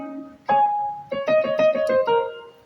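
Hyper Keyboard 10 electronic keyboard played dry with auto set off: a single held note, then a run of distinct plucked-like notes in quick succession, clear and close with no talking.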